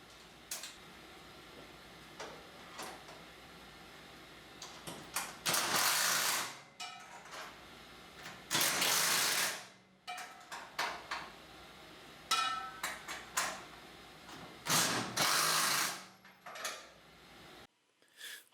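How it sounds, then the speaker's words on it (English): A hose is fitted onto a pressure washer hose reel on a trailer: scattered ratcheting clicks and several louder bursts of mechanical rattling and scraping come up close, with quiet gaps between them. "we'll go ahead and mount the hose on the reel"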